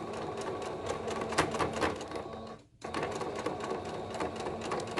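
A sewing machine runs in quick bursts while back stitching a knit sweater romper, a rapid mechanical patter with a brief pause for reversing before it resumes, fairly quiet and close.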